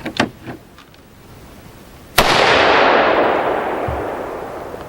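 A single sharp rifle report from an AR-15 fitted with a Black Dawn muzzle brake, a loud crack followed by a long rolling outdoor echo that slowly fades, with a few faint clicks before the shot.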